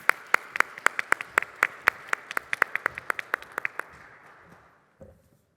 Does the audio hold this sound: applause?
yes